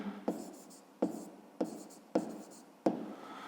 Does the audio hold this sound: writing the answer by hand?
yes